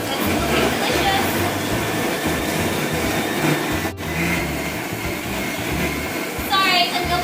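A milkshake machine runs in a kitchen, a steady, loud motor drone that holds throughout with slight wavering, with faint voices in the background.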